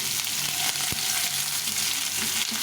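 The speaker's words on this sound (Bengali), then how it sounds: "পেঁয়াজটাকে খুব একটা ভাজবো না অল্প করে ভেজে" Thickly chopped onion lightly frying in oil with bay leaf in a pan for chickpea ghugni, producing a dense, even, close sizzle with a single sharp utensil knock partway through, and no talking.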